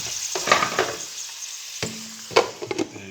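Clam shells go into a hot pan with tomatoes, giving close wooden and shell knocks and short bursts of sizzle. A quiet gap falls in the middle, and there is no talking.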